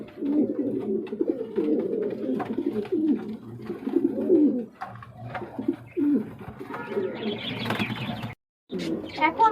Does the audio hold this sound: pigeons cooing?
yes